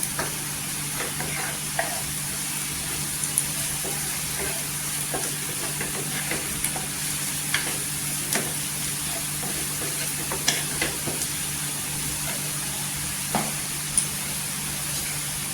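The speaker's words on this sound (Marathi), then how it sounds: "तेलावर मसाला परतून घ्यायचं सुके मसाले" Dry spices, turmeric and Kashmiri chilli powder, sauté in oil on a tawa for egg tawa masala, giving a steady close sizzle with faint hiss and occasional soft scrapes of stirring throughout.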